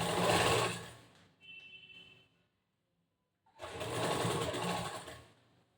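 A sewing machine stitches fabric on a blouse front in two loud, close runs separated by a brief quiet pause with faint handling.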